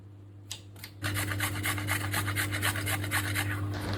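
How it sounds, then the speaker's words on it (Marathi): A carrot scraped over a hand grater for corn cutlets, a steady rhythmic rasping of quick repeated strokes, close and fairly loud, beginning after a short quiet start over a constant low kitchen hum. "आता इकडे मी गाजर किसून घेतलेला आहे."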